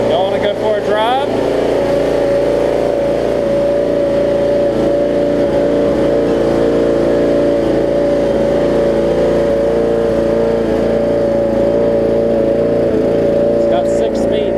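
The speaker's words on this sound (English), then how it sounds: "That Vanguard sounds totally different than a regular Briggs." Riding mower, a 30-year-old Murray with a Briggs & Stratton Vanguard engine, running steadily with a loud, even droning hum at close range throughout, with people talking over it.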